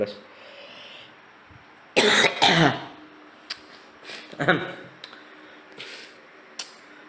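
Several sharp, loud coughs in a short burst, followed by a few smaller coughs and throat sounds against a quiet room background.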